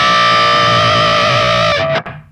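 Heavily distorted electric guitar from a B.C. Rich Kerry King signature V with a Floyd Rose tremolo holds a sustained, buzzing tone with steady harmonics, then dips and cuts off abruptly near the end; played alone, loud and close.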